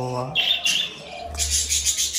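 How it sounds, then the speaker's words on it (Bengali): Lutino cockatiels give bright, high chirps in short bursts, several calls in quick succession close by, with a brief low voice at the start. "আজকে একটি নতুন পাখি কিনলাম, ককাটেল বার্ড"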